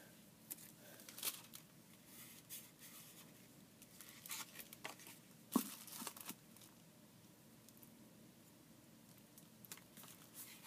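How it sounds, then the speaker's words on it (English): Stubborn stickers being peeled off a prize item, with close, quiet scratching, crinkly tearing bursts and soft fingernail picking in irregular spurts over a faint background. "these stickers are really hard to remove"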